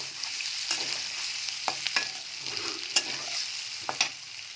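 Egg stir-fried with salt, turmeric, cumin and chili in a pan gives a steady faint sizzle, punctuated by sharp scraping strokes of a spatula against the pan at irregular intervals, close and without talk.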